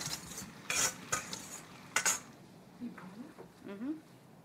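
Jackfruit goes into a curry pot with curry powder, water, garlic and ginger, and a utensil clanks and scrapes against the pot in bursts, followed by quieter stirring while a person speaks briefly.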